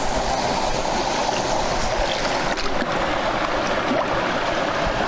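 Coffee beans being washed in water to strip off the sticky mucilage, giving a continuous close sloshing and gurgling of water, steady throughout with no talk.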